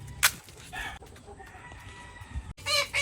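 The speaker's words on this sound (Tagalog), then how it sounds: "Ito, angas na manok" A gamecock, a tailless Filipino Warrior fighting rooster, crows loudly up close, with a sharp crow at the start and more crowing bursts later and clucks in between, over low farmyard rumble.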